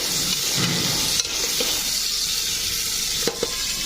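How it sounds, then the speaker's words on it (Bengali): Vegetables sizzle and crackle steadily in hot oil, close up, with a couple of brief utensil scrapes against the pan. "সবজিগুলোকে এখন ভাজা হচ্ছে"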